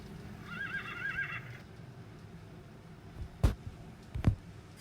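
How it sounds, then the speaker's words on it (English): A horse gives one wavering whinny at the start, followed by quiet ambience and a pair of hoof-like thuds near the end. "the horse says,"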